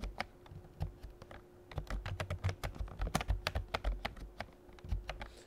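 An email address and password are typed on a computer keyboard, a quick run of close, crisp key clicks in irregular bursts that grows busier through the middle.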